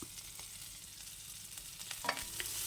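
Green chillies, finely chopped ginger and dried red chillies frying in ghee, a soft continuous sizzle with a few light scrapes and taps of stirring near the end, quiet and close.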